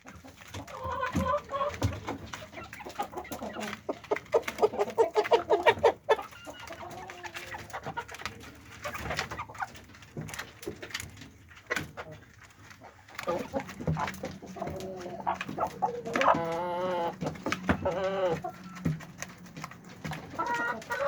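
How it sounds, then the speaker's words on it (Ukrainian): Hens cluck and birds call around a farmyard, with a rooster crowing amid the clucking and occasional bits of a voice. "Що ти так кукарікаєш, а?"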